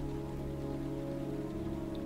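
Rain falls in the video game Heavy Rain, a steady, even hiss of drops on surfaces that holds at a constant level throughout, with no voices over it.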